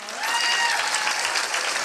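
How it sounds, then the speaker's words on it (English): Graduation audience applauding a school principal, a dense, steady wash of clapping from a large crowd that holds at full strength throughout. "so please give her a big round of applause"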